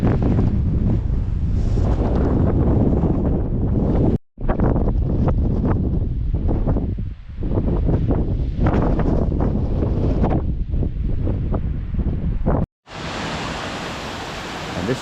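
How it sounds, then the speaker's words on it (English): Heavy wind buffets the microphone outdoors on a coast-to-coast hike near the Haweswater Reservoir, a loud continuous rumbling roar with gusts that briefly drop out twice and a harsher burst of noise near the end. "It's windy."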